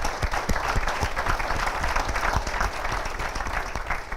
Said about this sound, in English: we must clap for all the answers